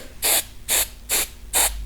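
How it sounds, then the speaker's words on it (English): Four short hissing bursts from a can of hairspray sprayed inside a motorcycle handlebar grip, evenly spaced about half a second apart, close up with quiet pauses between. "I'm going to spray the inside of the grip"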